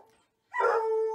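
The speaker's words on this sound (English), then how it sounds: "The dog from next door is here." A neighbour's dog gives a single loud, close bark that rings out briefly in a quiet setting.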